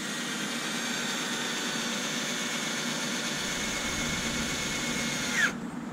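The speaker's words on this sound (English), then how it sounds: "So we're gonna go ahead and drill a hole." A power drill bores a hole through a plastic cap held with pliers, producing a steady whining hum that ends with a brief squeal as the bit bites through.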